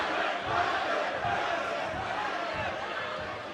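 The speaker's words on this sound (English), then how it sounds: "I think the crowd's booing" A crowd boos and jeers at a varsity boxing match in the Octagon, a dense, sustained roar of many voices that swells and fades slightly, rising in waves over the noisy hall.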